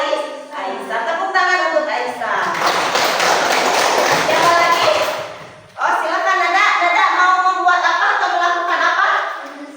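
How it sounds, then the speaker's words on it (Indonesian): Classroom applause for a student, a dense burst of many hands clapping for several seconds, then a second round with children's voices chattering over it. "Tepuk tangan untuk Aisyah"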